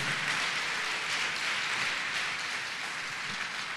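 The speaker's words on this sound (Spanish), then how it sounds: "¿Por qué no le da un aplauso a ese Dios lleno de misericordia?" Church congregation applauding, a dense, steady wash of many hands clapping together, sustained and fairly loud without a break.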